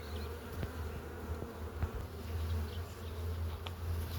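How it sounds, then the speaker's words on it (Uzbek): Honeybees crowding over the tops of hive frames in an overfull colony, giving a steady, dense buzzing hum throughout, fairly close and continuous with no talking. "Arilar ko'paygan, ustilarida mana bunaqa arilar yuribdi."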